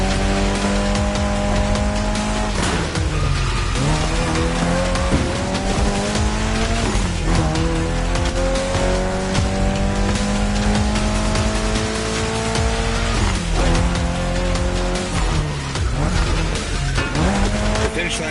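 A Mitsubishi Lancer Evo X race car in The Crew Motorfest screams along loud and close, its engine climbing in pitch and dropping back at each gear change, with long tyre squeals over the top.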